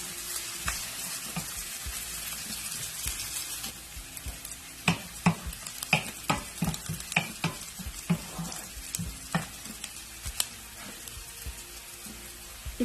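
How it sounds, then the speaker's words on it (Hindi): Chopped onion fries in hot oil, a continuous crackling sizzle with repeated sharp stirring scrapes and taps of a spoon against the pan, close and with no talking. "जब ऑयल गर्म हो जाएगा तो मैं इसमें चॉप 1 अदद अनियन डालूँगी और इसको मैं लाइट गोल्डन फ्राई करूँगी।"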